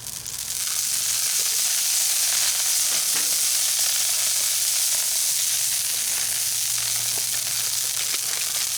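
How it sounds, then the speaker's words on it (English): Oil hits a hot pan cooking English muffin breakfast sandwiches and sizzles loudly and steadily throughout, with a constant hiss and occasional faint clicks and scrapes. "let's add a little bit more oil here in the center area"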